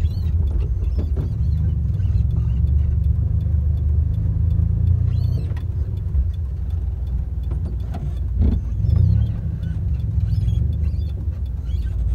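A small multicab driven by a 12-year-old boy on Camotes Island runs with a steady low engine rumble and road noise throughout, close and continuous, with faint rattles and bumps.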